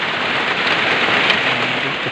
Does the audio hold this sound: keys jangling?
no